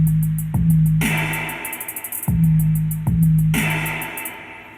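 Trap-style bridge section of a Wild Arms 4 track: booming sub bass hits under fast rolling hi-hats and reverb-heavy snare claps, a loud, steady looping groove with no talking.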